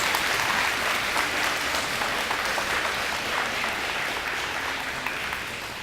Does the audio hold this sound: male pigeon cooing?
no